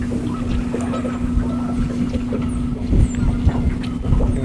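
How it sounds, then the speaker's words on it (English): Strong wind roars steadily across a microphone while travelling over a frozen lake in February, with a constant low drone of a vehicle underneath and faint chirps high above. "That wind freezes your eyelids back."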